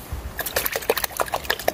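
A pesticide mixture is poured into a bucket of water for spraying Japanese cucumber plants, giving a soft, fairly quiet run of irregular liquid drips and splashes.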